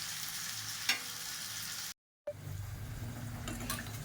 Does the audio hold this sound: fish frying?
yes